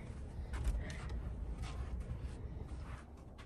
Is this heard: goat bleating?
no